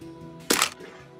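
A single camera-shutter click sounds as a selfie is taken in Minecraft Education Edition, one short bright burst standing alone over a quiet background hum.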